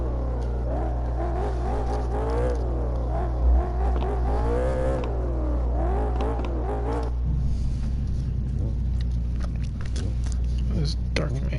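A drift car engine in CarX Drift Racing Online revs and wails with rising and falling pitch under a commentator's voice, then settles into a steadier drone as the talking continues.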